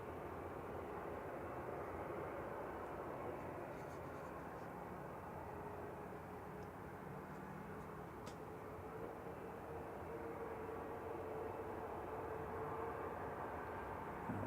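British Airways Airbus A320neo on approach at Manchester Airport, arriving from London Heathrow: a steady, broad jet roar holding at an even level throughout, with no clear rise or fade.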